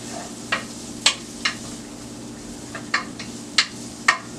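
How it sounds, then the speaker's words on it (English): Celery, onion and carrots sauté in hot oil in a pan, a soft low sizzle punctuated by several sharp scrapes and taps of a utensil at uneven intervals. "So I'm going to add my celery, my onion, and my carrots. I'm going to let this saute a little bit."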